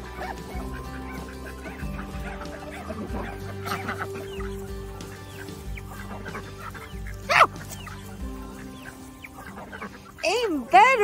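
Young chickens (pullets) cluck and murmur at an animal attraction, soft calls running under people talking, with a few sharper squawks near the end.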